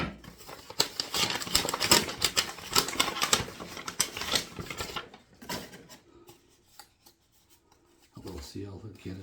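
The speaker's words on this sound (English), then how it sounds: "unwrap this. Stiff paper, okay. With more tape." Stiff paper wrapping sealed with tape is torn and crinkled open during an unboxing, with close, busy rustling and ripping for about five seconds before the handling turns quieter and sparser.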